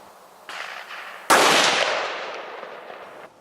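A single loud gunshot fired at paper targets at a shooting range, a sharp crack with a long echoing tail, preceded by a fainter rustle or distant report.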